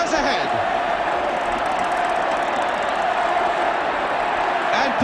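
A football crowd at a Spurs home match in the 1969-70 season, against Derby County, keeps up a steady, loud roar of cheering and applause after a goal by Jimmy Greaves, with no clear peaks.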